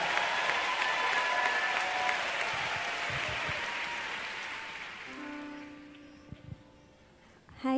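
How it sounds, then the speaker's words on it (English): A church congregation claps for a guest walking up to give a testimony. Loud, dense applause rolls on for about five seconds, then tapers off, leaving scattered claps and a faint tone. "give her a big clap as she comes."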